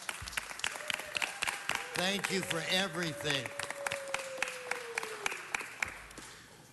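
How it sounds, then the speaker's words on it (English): Scattered, fairly sparse clapping from the audience at a city council meeting, distinct individual claps in an uneven rhythm, while a person speaks over it and a faint tone hums underneath. "Give them a round of applause."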